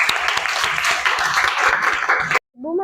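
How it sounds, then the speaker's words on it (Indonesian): A classroom of students clapping together, dense and lively for about two seconds before stopping abruptly, followed by a short voice. "tepuk tangan untuk kalian semua"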